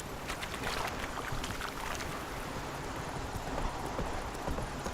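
Horse hooves clip-clop along a road in The Witcher 3: Wild Hunt, a steady rhythmic trot under wind and ambient game noise, with no talking.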